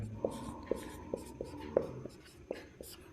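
Pen scratching notes onto paper during a lesson, with regular taps and short scribbling strokes, faint and close, with a quiet voice murmuring under it.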